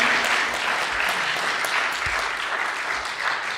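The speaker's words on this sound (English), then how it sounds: "Give him one more round of applause." A church congregation at a Juneteenth service applauds, with steady, dense clapping that sustains at even loudness throughout, filling the room with no voices on top.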